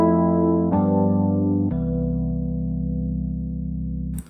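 Three sustained four-note chords in a 4-5-1 progression play in turn, each held with a clean electronic tone before the final chord rings out and cuts off.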